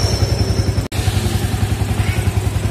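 A cold Yamaha Vixion Old motorcycle engine, which has a fault code 22 and slow throttle response, idles at about 1300 RPM with a steady, close, rapid low thumping pulse, broken by one brief dropout.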